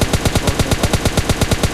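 An M4 rifle fires in a continuous spray in PUBG Mobile Lite, a rapid, evenly spaced string of about fifteen loud close shots.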